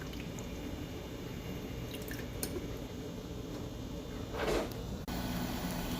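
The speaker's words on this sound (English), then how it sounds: "you'll hear this fan and shortly followed by your water pump turning on." A mini ice maker hums with a steady fan drone, then its water pump briefly kicks in with a gurgling, dripping burst before the hum resumes; no one speaks.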